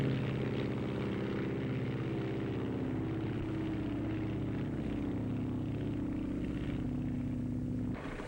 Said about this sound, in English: Captain Frank Hawks climbs aboard his Lockheed to set a new transcontinental mark.